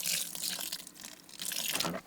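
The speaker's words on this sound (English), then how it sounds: "it'll suddenly go as I add the water in here" Water pours and splashes into a mortar mix for patio repointing, a soft continuous trickling and gushing, close but fairly quiet.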